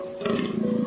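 A fallow deer gives a single deep, guttural belching groan, close and loud, lasting about a second with no speech.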